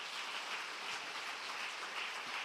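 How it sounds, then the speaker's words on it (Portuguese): Steady applause from a congregation during a church service, a dense even patter of many hands clapping at a moderate, slightly distant level throughout, with no voices on top. "Dê um forte aplauso ao Senhor aí."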